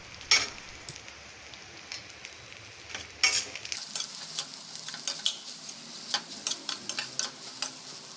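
Chicken with chilli powder, coriander powder and garam masala is stirred in a pan over a light sizzle, with a spoon scraping in short strokes that turn into a steady, regular rhythm in the second half.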